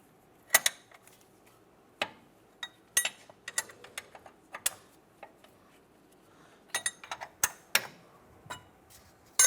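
A gear wrench ratchets on the upper control arm of a 2015-2020 Cadillac Escalade, giving sharp, irregular clicks in short bursts with pauses between them, close and fairly quiet, with no talking.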